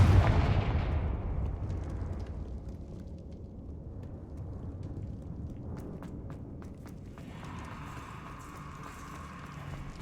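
A Confringo fire spell blasting in Hogwarts Legacy: a loud, broad fiery burst at the start that fades into a long rumbling decay, with faint crackles and light ticking afterwards and a brighter tone rising near the end.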